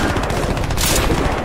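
Rapid automatic gunfire from Crysis 3 multiplayer on PC rattles loudly and continuously in a dense burst, with no talk over it.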